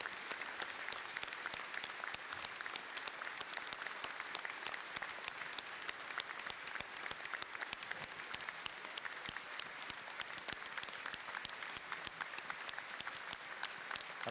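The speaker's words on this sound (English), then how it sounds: "there is that start of the minute's applause" Steady, sustained applause from a large rugby league stadium crowd during a minute's applause, dense and even throughout with no talking over it.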